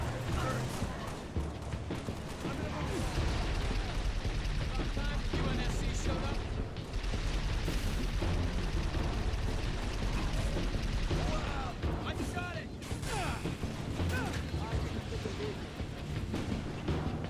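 Heavy plasma cannon fire in the video game Halo Reach, aimed at Hunter enemies: a dense, continuous barrage of loud blasts and impacts layered over busy battle noise for the whole stretch, with a voice talking underneath.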